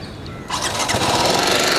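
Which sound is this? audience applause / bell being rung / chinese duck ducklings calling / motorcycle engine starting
motorcycle engine starting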